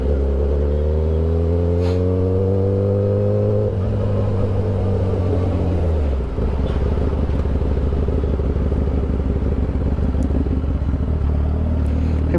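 A CX-10R sports motorcycle engine drones loudly while being ridden, its steady tone dropping as it slows around the midpoint, then settling into a rougher, closer rumble.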